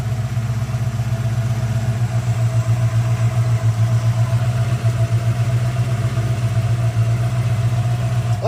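A 1994 convertible's engine runs at a steady idle, a loud continuous low droning hum close by with a faint clatter and no talk.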